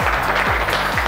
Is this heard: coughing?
no